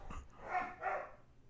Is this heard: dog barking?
yes